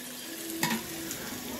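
Food frying in a pan with liquid butter gives a soft, steady sizzle, quiet and close, with one brief louder scrape partway through.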